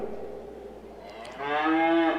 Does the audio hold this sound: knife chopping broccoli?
no